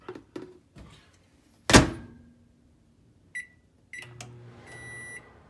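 A microwave oven heating chocolate: a few soft clicks, then a loud thump as the door shuts, followed by keypad beeps and the low steady hum of the oven starting up.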